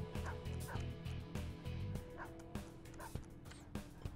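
A shadow dog enemy in Persona 5 Royal yips a few times in quick succession over a pulsing game music loop, faint barks spaced through the track.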